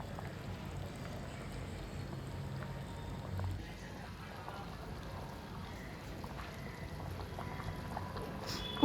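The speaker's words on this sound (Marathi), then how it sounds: "आता इथे उकळी फुटली आहे।" Water boils steadily in a pot for dal khichdi, a dense, even bubbling and rushing that runs continuously for about nine seconds at moderate level.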